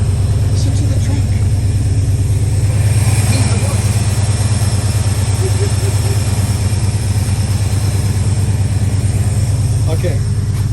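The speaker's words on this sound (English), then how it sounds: "Listen to the truck." An old pickup truck idles loudly through its mufflers with a steady, throbbing low rumble close by, while someone talks briefly over it.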